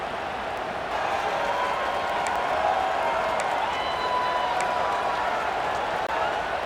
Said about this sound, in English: The Red Raider crowd rising to the occasion to help its defense on third down.